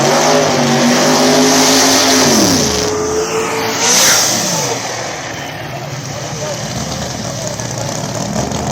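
Small tire radial drag race cars at Thunder at the Rock rev hard and launch, a loud roaring engine climbing in pitch before shifting and fading away down the track, with commentary over it.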